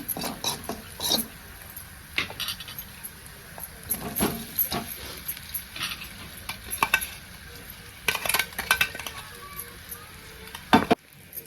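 Turmeric stirred into hot oil in a pan while making chicken thecha, irregular scraping and clinking strokes of a spoon against the pan over a low sizzle, close and uneven, with no voices.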